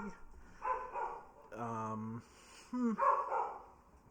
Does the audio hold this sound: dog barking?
yes